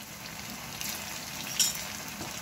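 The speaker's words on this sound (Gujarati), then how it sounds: "ફ્રેન્ડ્સ તેલ એકદમ મસ્ત ગરમ થઈ ગયું છે, આપણે પેટીસ મૂકશું" Ragda patties frying in hot oil in a pan: a steady, quiet sizzle with a faint crackle, and no talking.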